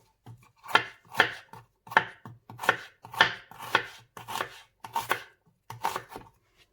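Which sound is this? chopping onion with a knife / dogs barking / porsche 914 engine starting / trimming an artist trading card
chopping onion with a knife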